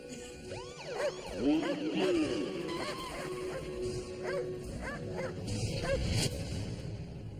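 Dog yelps and barks in short bursts, some whimpering, with background noise and voices in a dramatic scene.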